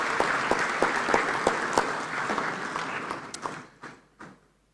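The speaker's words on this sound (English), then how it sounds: "Honorable Andrew Samuako Esiama, another round of applause, please." Audience applause at an African inter-parliamentary conference, a sustained crowd clapping with some sharper individual claps, gradually thinning out and fading to silence near the end.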